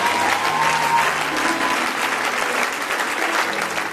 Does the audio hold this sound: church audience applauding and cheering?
yes